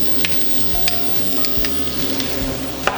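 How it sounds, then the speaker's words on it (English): Chopped shallot and garlic sweat in hot olive oil in a saute pan for quinoa risotto, giving a steady close sizzle with a few sharp crackles and utensil taps, no voices. "We're gonna put in a little bit of olive oil, some chopped shallot, a little bit of chopped garlic"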